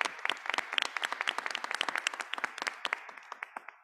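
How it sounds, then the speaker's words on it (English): A small room at a board of education meeting bursts into clapping for three student representatives, sharp overlapping claps that thin into a few scattered final hand claps near the end. "Can we just get another round of applause for these lovely three ladies?"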